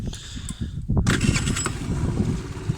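A Luxxon Eco 50 scooter's small engine turns over and catches after a second, settling into a steady, close puttering idle.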